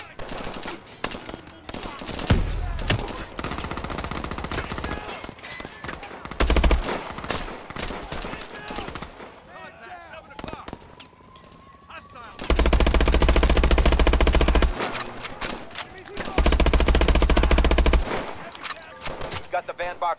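Bursts of machine gun fire crackle in the Call of Duty Advanced Warfare game, long sustained volleys alternating with quieter stretches and scattered single shots, with voices talking in between.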